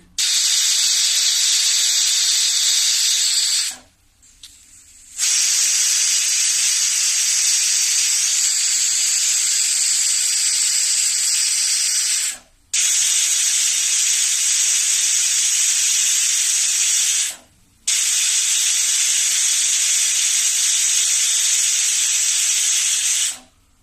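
A pressure cooker of spinach and pigeon pea dal on a low flame whistles, hissing loudly and steadily, cutting out briefly three times before resuming, a long sustained high steam jet.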